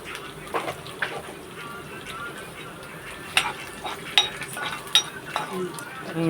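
Soft sizzling of curry leaves frying in hot oil, punctuated by sharp clinks of a utensil stirring against a pan.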